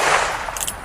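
A single .22 long rifle round fired outdoors, a short sharp crack with a quick fading tail, heard alone and close.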